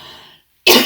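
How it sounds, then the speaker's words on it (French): After a faint fading murmur and a brief silence, a sudden loud, harsh cough bursts out close to the microphone. "Qu'est-ce qui se passe là que j'arrête pas de tousser d'un coup?"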